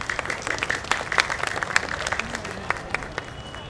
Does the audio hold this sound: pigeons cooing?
no